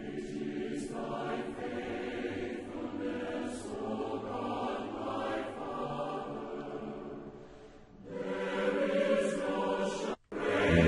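Recorded church hymn Great is Thy Faithfulness starting straight in with no introduction: sustained organ-like chords and melody, fairly loud and continuous, with a brief dropout near the end.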